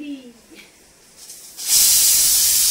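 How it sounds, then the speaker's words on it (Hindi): A pressure cooker cooking dal bursts into a loud, sustained whistling hiss partway through, after a quieter stretch with faint background sounds. "और देखिए प्रेशर कुकर का सीटी लग रही है भैया दाल का।"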